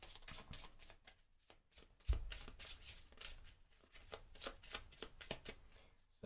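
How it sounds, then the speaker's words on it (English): Marvel Champions card game encounter deck being shuffled by hand, a close, quiet run of rapid riffling and card-slapping bursts repeating over several seconds. "To shuffle that up"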